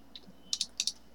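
A few quick clicks of a computer keyboard, close and crisp, in two short pairs after a single lighter tap, against a quiet room background.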